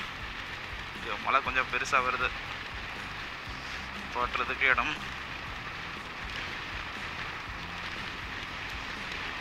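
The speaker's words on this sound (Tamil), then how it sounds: "மழை கொஞ்சம் பெருசாக வருது" Heavy rain pours down steadily during a drive from Chennai to Tindivanam, a constant wash of noise under two short bursts of someone speaking Tamil.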